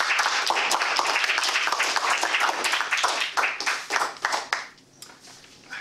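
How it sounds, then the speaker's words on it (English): Audience applause for a speaker at a Toastmasters meeting: dense, sustained clapping from a room of people, loud and close, thinning into scattered claps before fading near the end. "A big round of applause for Peter."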